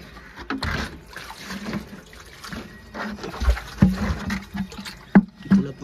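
Water splashes and sloshes irregularly as it is poured into a chicken coop on a hot day, with scattered wet bursts and dribbles growing louder toward the end, close by.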